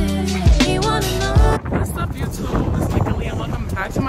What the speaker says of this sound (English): I don't know if you guys can hear me because of the wind